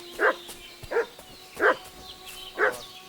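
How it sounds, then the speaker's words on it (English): Dog barking in the medieval open-world game Kingdom Come Deliverance II, four separate barks spaced evenly about two-thirds of a second apart, moderately close over a quiet outdoor backdrop. "What's that dog making such a fuss about?"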